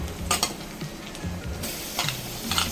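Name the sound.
country chicken added to sizzling masala in pan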